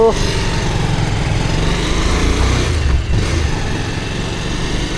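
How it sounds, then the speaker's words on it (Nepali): A motorcycle engine runs steadily and loudly while riding, a constant close drone with a brief dip in pitch near the middle, wind rumble underneath. "आज पहिलोचोटि म बाइक चलाउँदैछु"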